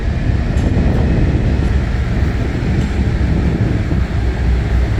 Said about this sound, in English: It's a coal-ash rail train